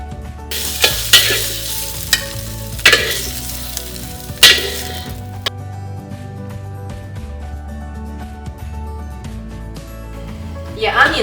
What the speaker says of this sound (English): I'm going to put about a tablespoon of oil in the wok and do my prawns now.